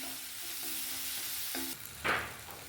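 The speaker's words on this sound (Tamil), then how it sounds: "கொஞ்சம் நேரம் வதக்கிட்டு மூடி போட்டு வேக வச்சுக்கலாம்" Tomatoes with turmeric sautéing in a pan for spinach dal, a quiet close sizzle with soft stirring scrapes and one brief louder clatter near the end.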